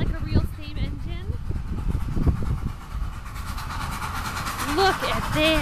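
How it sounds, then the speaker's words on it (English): The Spirit of Traverse City steam train at Clinch Park Zoo rumbles and clatters past up close, with a brief whistle-like tone near the end, while people talk over the noise. "It woo-woos like a real steam engine."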